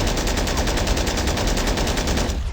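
An M2HB heavy machine gun fires in the Call to Arms video game, a loud, continuous stream of rapid rhythmic shots that runs for the whole stretch before stopping abruptly at the end.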